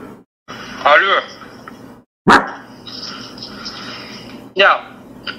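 A voice imitates a dog's bark over the phone in three short, loud bursts, separated by pauses and some background sound.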